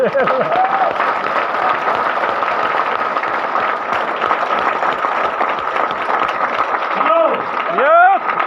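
An audience claps at a business seminar, a loud, sustained wash of many hands that continues steadily throughout, with a voice rising briefly over the clapping near the end.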